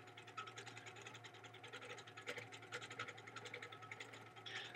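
Sewing machine running steadily while free-motion quilting a small, dense micro design, a continuous mechanical whir with rapid needle ticking and slight surges in speed, close and fairly quiet, with no talking.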